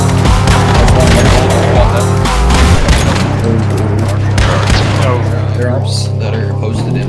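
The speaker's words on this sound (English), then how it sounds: "Whoever's on that pump, I'm shooting a bunch of them." Rapid bursts of gunfire in the video game Once Human during a stronghold battle, loud and near, rattling almost nonstop under excited voices talking.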